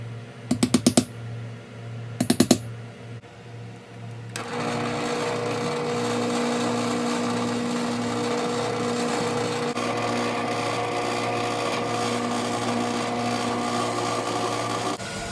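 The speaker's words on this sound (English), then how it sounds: "I'm going to drill a 3/8 inch hole at each intersection" A drill bores 3/8 inch holes into a wooden bar clamp rack, starting with two short sharp bursts before settling into a steady, loud, continuous whirring grind that runs close to the end.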